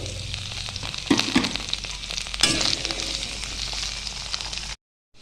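Cut potatoes frying in hot oil with bay leaf, dried red chilli, cumin and nigella seeds, a steady close sizzle with a few sharper bursts as pieces drop in, cutting off near the end.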